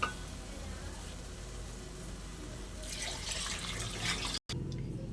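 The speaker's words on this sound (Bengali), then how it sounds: "এবার আমি পরিমাণ মতো জল দিয়ে দেব।" Water pours steadily into a pot of vegetarian khichuri made with three kinds of dal, a soft rushing splash that swells partway through and then cuts off briefly near the end, with no talking.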